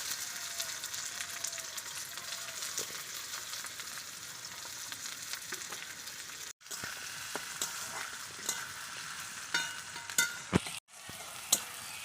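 Chopped onion and whole garam masala frying in hot oil, a steady broadband sizzle with occasional stirring clinks and scrapes, close and continuous.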